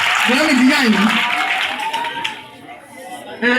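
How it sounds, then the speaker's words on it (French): An audience in a church gathering claps and cheers amid crowd chatter and a loud voice, the clapping fading toward the end before a brief renewed burst. "on acclame très fort pour moi"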